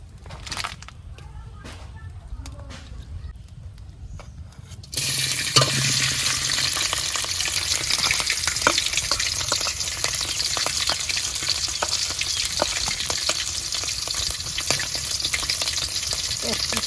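After a few quiet seconds of faint clicks, oil bursts into a loud, steady sizzle in a pan for a prawn and taro curry and keeps frying with occasional crackles.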